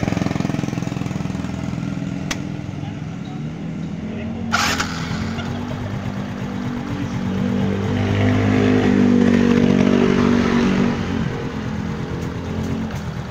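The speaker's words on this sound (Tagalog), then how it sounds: "So hintayin po natin uminit po yung makina." A Suzuki Smash motorcycle engine idles while warming up after a misfire and stalling problem, a steady close putter that rises slightly in the middle, with a sharp clack partway through.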